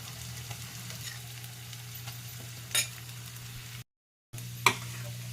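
Curry leaves, grated coconut, cashews, raisins, green chili and ginger masala fry in a pan, giving a low steady sizzle with a couple of brief stirring scrapes, faint and without talk.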